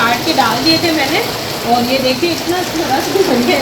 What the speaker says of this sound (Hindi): देखिए बिल्कुल तड़ आवाज़ आ रही है बारिश।